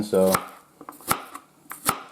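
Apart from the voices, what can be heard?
chopping a small onion into thick cuts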